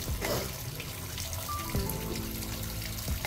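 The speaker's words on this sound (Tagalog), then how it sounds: "Lagyan na natin siya ng water." Water is poured into a cooking pot for boiling corn, a steady splashing trickle running throughout at close range with no talk.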